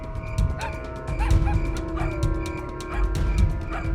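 Dogs bark and yip repeatedly in short bursts, fairly close, around a military patrol moving through an area, with a constant hum underneath.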